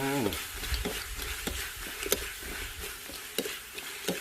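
Chicken stir-fried in a wok with candied jujube, shredded ginger and large fried chilies: steady scraping stirs over a low sizzle, with sharp spatula clacks landing every second or so, close and fairly loud, with no talking.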